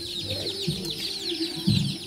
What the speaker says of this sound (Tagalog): marami tayong mga nakagalang manok. Mga native na manok lang to mga kabuenas